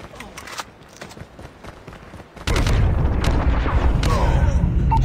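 Gunfire in PUBG Mobile during a ranked match: a sudden sustained burst of loud, dense shots and booms erupts halfway through, following quieter in-game movement and footsteps.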